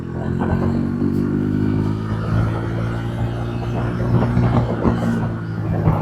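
A 160cc motorcycle engine ridden in sports mode hums steadily with a low, throbbing note, close and continuous, with slight rises in revs and some road rumble throughout.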